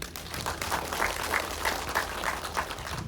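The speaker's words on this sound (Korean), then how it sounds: "여러분 큰 박수 부탁드립니다." Audience applause at a Jeju public transportation policy briefing, a steady, moderately faint patter of many hands with a loose rhythmic pulse, sustained throughout over a low background hum.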